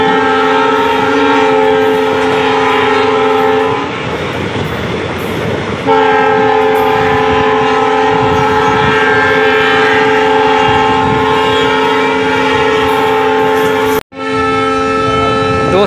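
A long, loud Indian passenger train horn blares with steady tones while the train stands at Mishrikh station, broken briefly by rumbling, then resumes before a sharp cut and a renewed blast.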